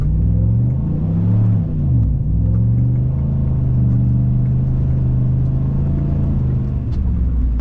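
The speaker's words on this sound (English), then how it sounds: "So let's see how it accelerates" A four-wheel-drive car accelerates on snow over ice, its engine droning loud and close and rising in a revving sweep, dipping once, then holding a steady strained rumble as the wheels spin.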